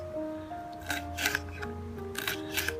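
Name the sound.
chopping green pepper with knife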